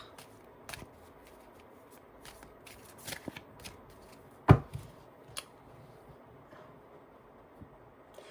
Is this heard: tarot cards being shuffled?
yes